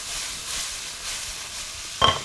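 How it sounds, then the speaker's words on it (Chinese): Green garlic leaves hit a hot wok with a soft, steady sizzle, ending in a sharper burst of frying near the end. "蒜叶下锅之后就可以关火"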